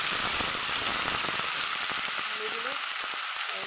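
Washed rice is poured into hot oil for khichuri, producing a loud, continuous hissing sizzle with scattered crackles that eases slightly toward the end.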